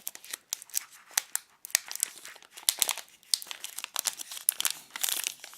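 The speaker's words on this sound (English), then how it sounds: "Perhaps we need to kind of pinch it from both sides to peel it open." A Cadbury Dairy Milk Oreo sandwich packet is pinched and peeled open, producing close, continuous crinkling and crackling of the wrapper with sharp tearing snaps throughout.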